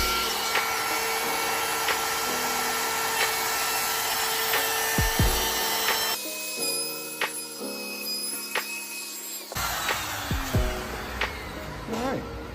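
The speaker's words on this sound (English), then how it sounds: "We have a 1/4 inch rounding over bit on my router, and we're going to start on a test piece." A handheld router fitted with a 1/4 inch roundover bit cuts along pine edges, giving a loud, steady high whine that shifts in pitch as the bit bites into the test piece.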